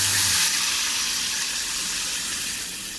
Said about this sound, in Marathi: एक ग्लास पाणी लागेल टाकायला.